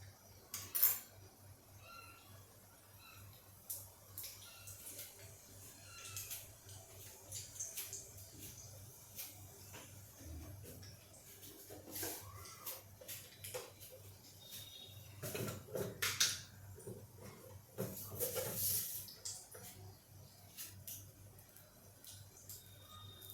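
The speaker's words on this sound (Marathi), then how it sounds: "ही फोडणी बघा फुटली आहे मोहरी फुटली आहे" Mustard seeds spluttering in hot oil for tempering, scattered faint crackles and sharp pops coming irregularly over a low steady hum, with a few brighter bursts of popping.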